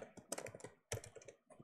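Keys clatter on a computer keyboard in quick bursts of typing with a short pause between them, close and fairly quiet, and nobody talks.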